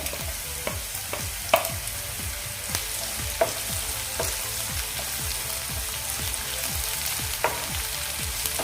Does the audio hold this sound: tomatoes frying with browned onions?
yes